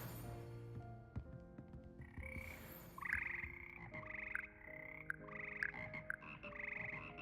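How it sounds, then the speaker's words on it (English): Magical singing frogs in Hogwarts Legacy croak in layered, tuneful tones, with sustained pitched notes and short bursts stacking into a quiet harmony alongside low game ambience. "These magical amphibians can sing in 6-part harmony and hold a pitch better than most humans."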